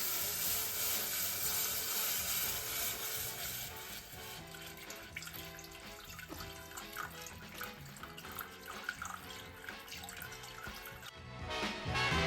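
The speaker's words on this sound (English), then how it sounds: "now that I have this milk, I'm going to be slowly pouring it in while whisking" Milk poured slowly into a pan while being whisked for a crunch wrap cheese sauce, a steady close liquid trickle with light whisk clinks, louder at the start and again at the end.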